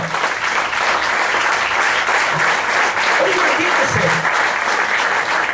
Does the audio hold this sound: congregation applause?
yes